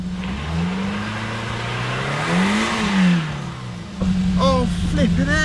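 Stuck car revving hard while trying to pull away, its engine pitch rising and falling in loud sustained surges, then dropping as a voice talks over the idling engine.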